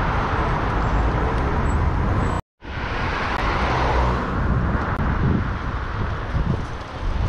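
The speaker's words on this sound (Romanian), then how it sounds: "E zgomot mare în trafic." Heavy city road traffic rumbles loud and constant, with wind buffeting the microphone and passing vehicles, interrupted by a brief cut to silence before the roar resumes.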